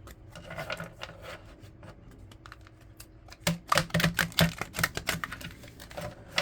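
Papery shuffling and riffling of large, stiff tarot cards, soft at first and then louder with quick flicks and taps, close by.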